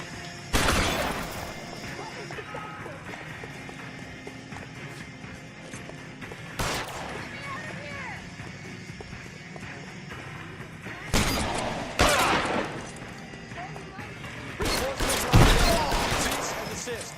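Gunshots ring out in the L.A. Noire video game during a rooftop chase, a few sharp bursts spread across the scene with gaps between them, mixed with game voices and background sound.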